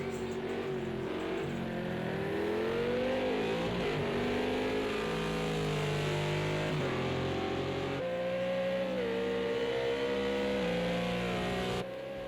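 Lamborghini GT3 race cars lapping Zolder in a sim racing game, their engines droning loudly and continuously, the pitch climbing through each gear and dropping sharply at every shift.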